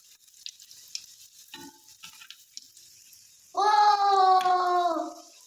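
Momo dumplings hit hot oil in a pan on a gas stove partway through, a sudden loud sizzle that holds steady after a few seconds of quiet handling and clinking.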